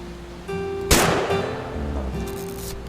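A single sharp gunshot cracks out over a steady, tonal soundtrack in the game What Remains of Edith Finch, followed by a brief decaying tail.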